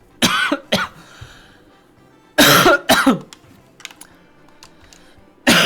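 Several loud, close coughs come in bursts, a pair at the start and another pair midway, with quiet tapping and rustling in between.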